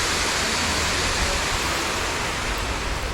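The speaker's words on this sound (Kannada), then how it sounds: "ಫಾಲ್ಸ್ ಎಷ್ಟು ಜೋರಾಗಿ ಬರ್ತಿದೆ ಗೊತ್ತಾ? ಸೌಂಡು ಅಷ್ಟೇ ಜೋರಾಗಿ ಕೇಳಿಸುತ್ತೆ" Waterfall near Dandeli roaring loudly and continuously, a dense unbroken rush of falling water filling the whole sound without any pauses or voices.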